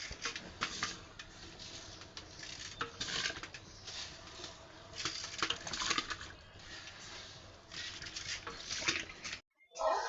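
Washed rice poured into a pot of boiling water for pulao gives a steady close patter and rattle for several seconds, ending with a brief clatter.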